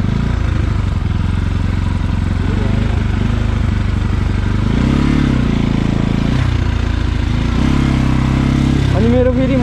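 A motorcycle engine drones loudly and close on a muddy rural track near Damauli, its pitch rising and falling as the throttle changes, with a voice talking over it.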